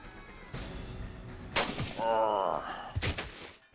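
Gunshots in the video game Jagged Alliance 2, a few sharp, separate reports spaced apart, with a faint game sound and a voice between them at moderate loudness.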